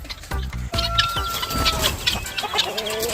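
Chickens on a farm cluck and squawk close by in a busy run of repeated calls, with no clear pauses between them.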